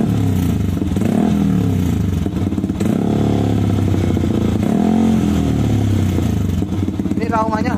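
A motorcycle fitted with an aftermarket DOS exhaust revs up and settles back in several rising and falling swells, a deep, smooth, bass-heavy engine note, close and loud throughout.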